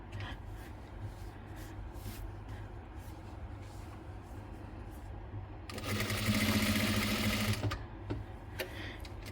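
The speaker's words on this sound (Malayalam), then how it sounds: "എഡ്ജിലൂടെ സ്റ്റിച്ച് ചെയ്തെടുക്കുക." A sewing machine stitches along the edge of a star-neck fabric piece in one close, rapid, whirring burst of about two seconds, set against quieter background noise.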